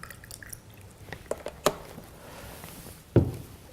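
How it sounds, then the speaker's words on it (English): Fruits and vegetables are placed to soak in 11.5 pH alkaline water, giving scattered close drips and small splashes, with a louder splash near the end against a quiet room. "and we're going to soak our fruits and vegetables."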